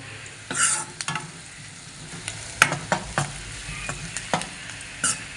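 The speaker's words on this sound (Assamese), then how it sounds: "পিঁয়াজখিনি অকণমান ৰঙচুৱা হোৱালৈ ভাজিম।" Onions frying in a pan with turmeric for a simple Assamese chicken curry give a steady, loud sizzle, broken by scraping stirs and light knocks of the utensil against the pan.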